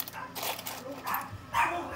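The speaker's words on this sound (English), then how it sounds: "spooked the dogs" Dogs whimper and give soft yips and barks at a moderate distance, an uneven run of high whines and short cries over a quiet room.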